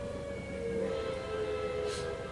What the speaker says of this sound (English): Very Cold War air raid sirens.